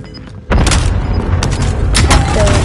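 Cluster strike explosions in a video game: a sudden loud boom breaks in after a quiet half second, then a sustained roar of overlapping blasts and crackling detonations rolls on close by with no talking.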